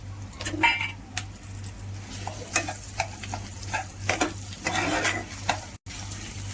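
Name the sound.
mashed banana mixture being sautéed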